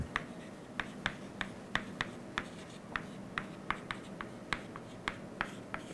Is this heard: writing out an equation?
yes